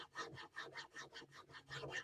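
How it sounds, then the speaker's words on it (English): Rhythmic rasping of a chainsaw file drawn back and forth across wood during rough carving, about nine even strokes, close and steady with no talking. "Sometimes to get in there I use a chainsaw file."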